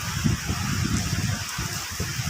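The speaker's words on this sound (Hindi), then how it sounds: "बाहर बारिश आ रही है" Rain falls outside as a continuous, fairly loud hiss and patter with no break, heard alone without any voices.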